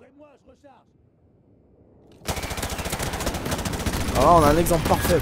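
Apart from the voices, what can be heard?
gunfire in video game Modern Warfare Remastered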